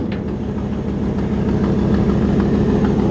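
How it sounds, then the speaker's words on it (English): A 1955 Ford F-100 engine with an exhaust leak idles steadily with the hood open, a close, even low rumble that holds on its own without any talk. "I'll pop the hood and let you hear the engine."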